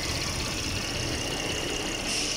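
A Chevrolet Impala engine, recently repaired for an oil leak, idles smoothly and steadily up close, a continuous even hum with no voices.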